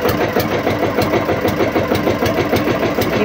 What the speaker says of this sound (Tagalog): pinaandar na ng asawa ko yung makina